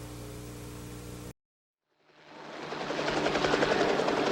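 Military helicopter flying over the Woodstock festival crowd in 1969, its rotor wash swelling up out of a brief silence into a loud, steady, noisy whirr after an earlier stretch of tonal hum.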